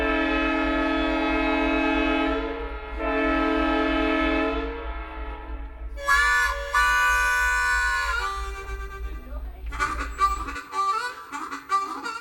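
A White Pass and Yukon Route tourist train in the Yukon, Canada sounds its horn in long sustained blasts over a steady low rumble, then higher whistle-like tones and rattling clatter follow, fairly loud throughout.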